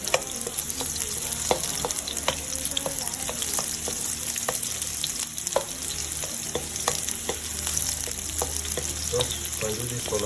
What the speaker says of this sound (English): We saute the white onions.